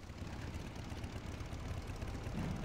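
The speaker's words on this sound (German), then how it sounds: "Ich höre hier irgendwelche Motoren." Airship engines in the World of Warcraft video game, a faint steady low mechanical drone running continuously with no talking.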